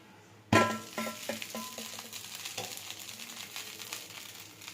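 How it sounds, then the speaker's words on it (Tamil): A multivitamin dosa made with black kavuni rice is flipped on a hot pan, setting off a sudden loud burst of sizzling that settles into a steady, close frying crackle. "இப்போ நம்மளோட மல்டிவிட்டமின் தோசையை திருப்பி போட்டுக்கலாம்"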